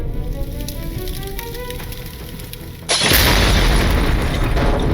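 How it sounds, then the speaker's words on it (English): Door exploding outward with fire rolling out: a quieter crackling stretch, then a sudden loud blast that gives way to a sustained, dense roar of flames. "Then, the door explodes outward. Fire rolls into the hallway."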